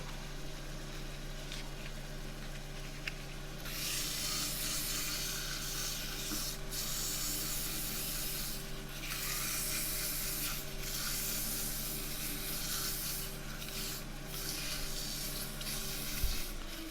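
Wooden end-grain box sanded with 240 grit sandpaper while spinning on a lathe, a steady broadband rubbing hiss over a constant motor hum, growing louder after the first few seconds and continuing throughout.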